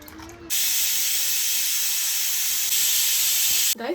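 A pressure cooker full of sambar lets out a loud, sustained steam whistle, a steady hiss that starts abruptly, holds for about three seconds and then cuts off.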